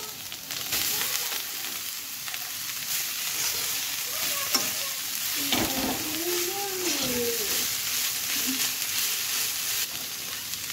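Corn roasted over a charcoal brazier is stirred with sour sandhana pickle in a pan, giving a steady close sizzle and scraping stir throughout while a voice is briefly heard over it.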